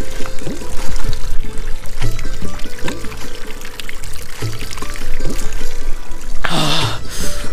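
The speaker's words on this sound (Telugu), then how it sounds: "వాటర్ ఫ్లోటింగ్ అవుతుంది మంచిగా" Water flowing in a mountain stream along a trekking trail to Tarsar Lake in Kashmir, a steady rushing, trickling wash with a brief louder splash near the end and faint voices in the background.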